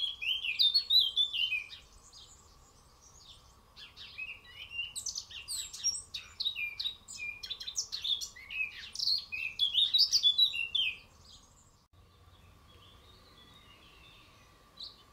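A male Eurasian blackcap sings from an almond tree beside ponds, bursts of bright, warbling phrases separated by short pauses, clear and fairly close over a quiet background with a faint steady hum.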